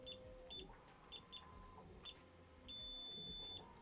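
Short electronic beeps chirp a few times from a FNIRSI DMC-100 clamp multimeter continuity test, then one steady high tone holds for about a second, over faint room noise.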